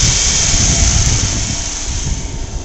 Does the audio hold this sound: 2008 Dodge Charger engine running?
yes